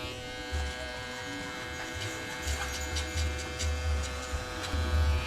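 An electric hair trimmer works on a taper fade, giving a soft, steady buzz with small scratchy bursts as it cuts fine hair close by.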